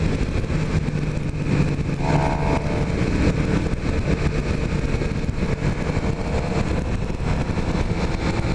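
A 2016 Suzuki GSX-R 750 sport bike rides along with a steady, loud engine drone and wind rush throughout, with a brief rising engine note partway through.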